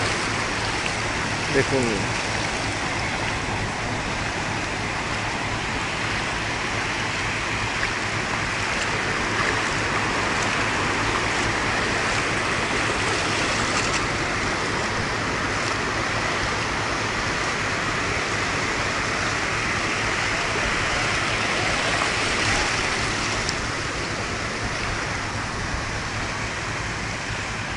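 Roaring sea surf at Cox's Bazar beach on the Bay of Bengal in the afternoon, a steady broad wash of breaking waves that continues throughout, with a voice speaking briefly over it.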